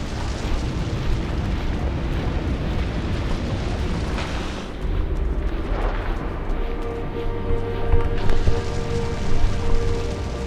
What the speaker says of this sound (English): Careful. Those flare-ups will cook you alive.